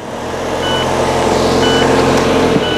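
A reversing truck sounds a steady series of beeps over a continuous engine rumble, loud and close, with no talk.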